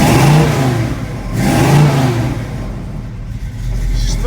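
A Chevrolet Camaro with badly off ignition timing runs loud and close, its engine swelling through a couple of revs before dropping back to a rough, uneven idle. No talk is heard.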